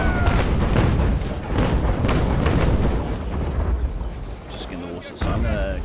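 Broadside cannons of the HMS Surprise fire in the naval game Naval Action, a rapid series of heavy, booming blasts that roll together and then space out, with someone talking over them.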